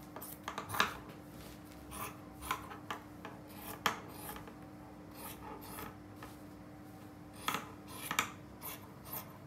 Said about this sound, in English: Just cut out the size that you need,